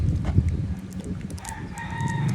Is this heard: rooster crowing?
yes